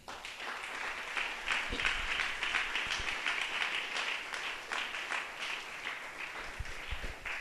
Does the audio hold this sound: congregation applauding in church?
yes